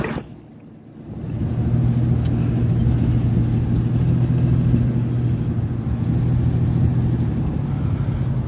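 A truck engine with a new muffler, fresh gaskets and a replaced fuel spider rumbles at a steady idle, a deep continuous drone starting after a short quiet moment and staying loud throughout.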